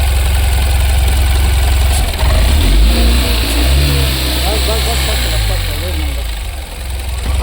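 A Tata Ace Gold BS6 petrol mini truck engine idles close up, then revs twice in rising, falling sweeps before settling back to a loud, steady idle.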